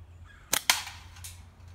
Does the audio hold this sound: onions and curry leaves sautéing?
no